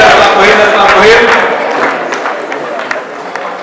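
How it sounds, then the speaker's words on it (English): An audience claps together at a church gathering as a man is welcomed to the front, loud and crowded with cheering, then thins into scattered claps as the noise fades. "Let's clap for him."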